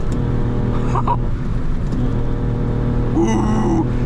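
A 1994 Ford Probe 2.5 V6 with a cone air filter drones steadily with a throaty intake roar, swelling slightly as it revs, close and loud throughout.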